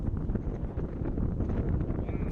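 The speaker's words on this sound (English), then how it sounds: "Gosh, it was windy." Strong wind buffeting a microphone on a golf course, a continuous low roaring rumble with gusty swells, loud and close throughout, with a voice faintly present underneath.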